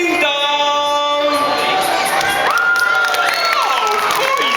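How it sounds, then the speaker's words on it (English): Crowd of children at a live Looney Tunes stage show with Bugs Bunny, Daffy Duck, Sylvester and Tweety, screaming, clapping and stamping their feet together in a loud, sustained burst, with shrill voices rising above the din. "I need you to scream as loud as you can, to clap your hands and to stamp your feet"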